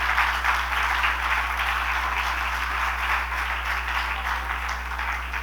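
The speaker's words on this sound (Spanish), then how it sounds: "Dele fuerte esas palmas al Señor." A church congregation claps steadily through a service, a dense, continuous patter of many hands filling the room at a constant level, with no voice on top.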